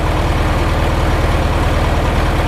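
An old air-cooled VW engine, not yet up to operating temperature, idles with a steady low rhythmic chugging loud and close, its even pulses continuing unbroken throughout.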